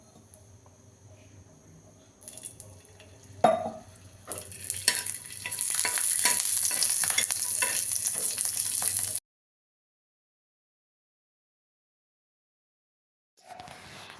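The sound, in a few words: garlic and ginger frying with whole spices in a pan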